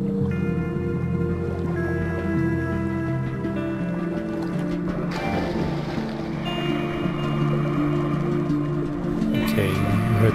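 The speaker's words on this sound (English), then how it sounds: "you heard the sound effects when you dive into the water, and of course the breathing noise is fading in sync to the music" Underwater diving effects with breathing in an Unreal Engine 5 game demo: muffled watery rushing and whale-like tones under sustained procedural music, continuous and fairly loud, with a brighter swell near the end.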